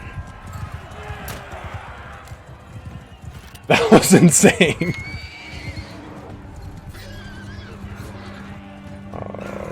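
A horse in the medieval battle game Mount & Blade 2: Bannerlord neighs loudly in a short burst amid galloping hoofbeats and battle noise. A voice talks over the scene before and after.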